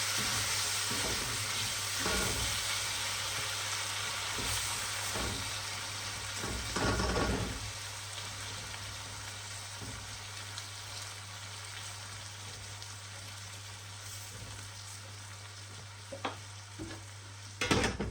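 A pan of tomatoes bubbles and sizzles steadily, with occasional utensil scrapes and light knocks from stirring.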